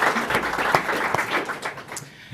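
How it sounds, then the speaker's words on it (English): An audience at an election debate on tax policy claps for a minister, with a dense burst of applause that is strongest at first and thins out toward the end, carried in a reverberant hall. "a round of applause to the Minister for joining us"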